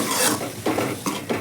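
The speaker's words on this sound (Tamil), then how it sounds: "நல்லா மிக்ஸ் பண்ணி விட்டுக்கோங்க." Jackfruit seed masala stirred in a pan, several distinct scraping strokes in an uneven rhythm over a soft sizzle, close and moderately loud with no voices.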